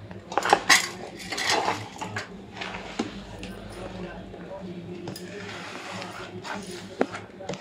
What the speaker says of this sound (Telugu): అన్నీ బాగా ముక్కలకి పట్టేలాగా మిక్స్ చేసేయాలి.